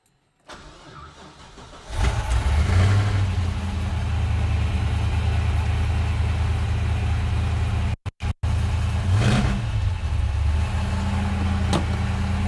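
A supercharged 1971 Chevelle cranks briefly, fires up loud and close, then settles into a deep, steady idle with a couple of sharp revs partway through.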